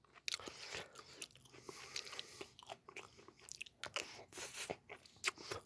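Someone chews combat ration seafood fried rice with squid close to the mic, giving soft, irregular crunchy bites and squishy mastication at a quiet level with no talk.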